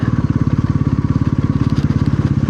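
A motorcycle engine idles close by on a village road near Kuldhara, with a steady, rapid thumping pulse throughout and no talking.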